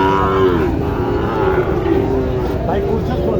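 A cow lets out a long, drawn-out moo that rises and wavers, heard close over a busy, murmuring crowd at a cattle market in Joypurhat.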